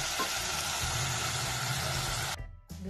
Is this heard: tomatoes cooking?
yes